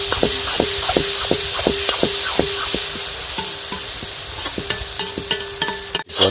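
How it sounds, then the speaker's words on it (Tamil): Onions and tomatoes sauté in a pan with a steady, dense sizzle, while a spoon knocks and scrapes against the pan in a regular rhythm, ending in a brief louder clatter. "வெங்காயம் தக்காளியெல்லாம் நல்லா வதங்கிருச்சு."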